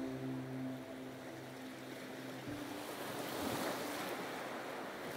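Ocean waves break on a shore in a soft, continuous wash with a gentle surge swelling near the end. Wind blows through it, and faint sustained tones hum underneath at the start.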